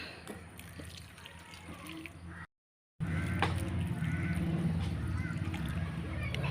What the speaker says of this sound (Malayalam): ചെടിക്ക് വെള്ളം ഒഴിച്ചു കൊടുക്കാം